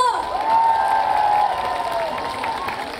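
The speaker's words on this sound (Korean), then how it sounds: "자, 박수 주세요." Festival crowd at an outdoor concert cheers and applauds for a trot singer, a steady, sustained roar of voices and clapping with a drawn-out high whoop running through it.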